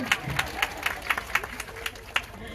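An audience at an awareness seminar claps together in an even, rhythmic beat, about nine distinct claps over a couple of seconds.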